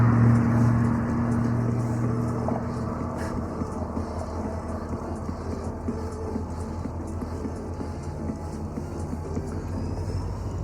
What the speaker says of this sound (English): And that train is running early.